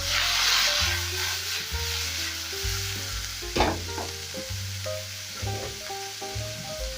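Broccoli stir-fried in a hot pan gives a steady, close sizzle with occasional stirring scrapes, while soft background music plays throughout.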